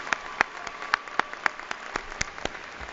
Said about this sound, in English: Please join me in a round of applause and congratulate the GWSB Award recipients.